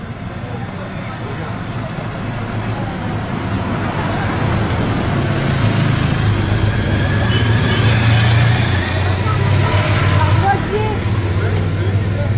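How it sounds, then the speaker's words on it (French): A car passes along the road during the BerCycle 2018 junior bicycle race, its broad roadway rumble building and staying loud through the second half over steady outdoor background noise. "Il y a une voiture, viens vite."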